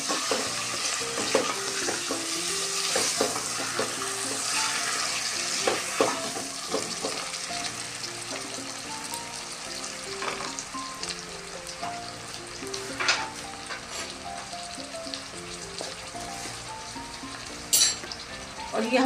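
Beef chunks sizzle and fry in a pot for a beef stew, a dense steady crackle lasting throughout, with occasional scrapes and clinks of a utensil stirring against the metal, close and loud with no voices.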